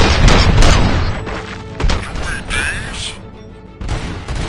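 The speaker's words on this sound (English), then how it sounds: "Gunshots? What's going on?" Loud bursts of gunfire and heavy booms during a prison riot in RoboCop: Rogue City, with several sharp shots, thuds and mechanical clanks, closely mixed and fairly dense throughout.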